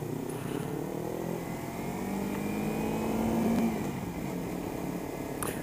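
A Kawasaki Ninja 300 with an aftermarket exhaust runs steadily on a Buffalo road, its engine drone constant and fairly faint, with a slight swell in the middle.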